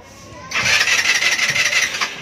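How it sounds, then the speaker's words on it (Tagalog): An Easyride 150N motorcycle is push-started but the engine fails to catch, giving a close, rhythmic churning and scraping noise that pulses steadily after a quiet start. "Hindi siya mag-start sa push-start."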